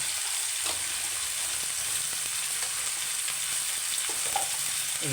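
Pakal fish curry (chorchori) sizzling and frying in a pan with coriander powder, with soft stirring scrapes and small clicks over a steady, even hiss, no voices.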